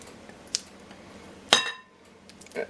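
Melted chocolate is scraped out of a bowl with a few sharp clinks and scrapes of utensil against the dish, with quiet gaps between.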